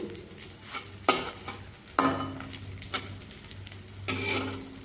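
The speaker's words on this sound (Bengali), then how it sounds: "একটু লাল লাল করে এইভাবে লো ফ্লেমে ভেজে নেব" Food frying on a low flame in a pan, a gentle sizzle punctuated by four or five firm spatula strokes that scrape and knock against the metal, close and unaccompanied by speech.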